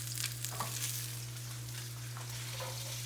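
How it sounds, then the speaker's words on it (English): Salmon sears in a hot pan with a steady, close sizzle and faint crackles over a constant electrical hum, no one speaking. "We're searing our salmon and cooking our couscous."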